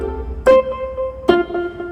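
Two notes struck about a second apart on a Yamaha PSR electronic keyboard with a 1/8 echo effect, each followed by a fading echo that repeats the tone several times.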